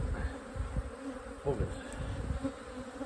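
Honey bees buzz around an opened hive and honey super, a soft, constant droning hum close by with faint handling noises, and one brief muttered word from a person.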